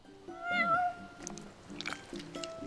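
A cat meows in Final Fantasy XV, one clear drawn-out meow up close followed by softer mewing and light rustling, fairly quiet overall with a little background speech.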